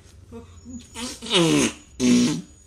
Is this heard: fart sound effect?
yes